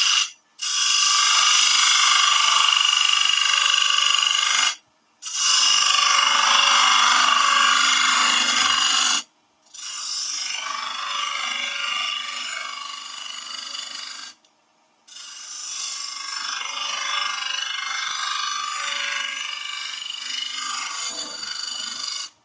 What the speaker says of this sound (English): let's go with a skew chisel bring out the wall thickness